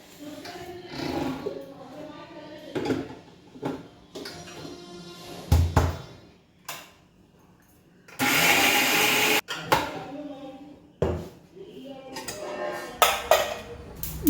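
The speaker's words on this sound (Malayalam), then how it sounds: "അര ഗ്ലാസ് വെള്ളം ഒഴിച്ചിട്ടുണ്ട് അരയ്ക്കാം" A mixer grinder grinding coconut, cumin and half a glass of water roars loudly for about a second in the middle, surrounded by kitchen clatter and people talking before and after.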